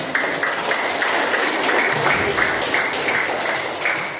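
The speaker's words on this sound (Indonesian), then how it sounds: "beri tepuk tangan" Classroom applause for a student group during an Islamic cultural history lesson, with continuous clapping from a roomful of students throughout.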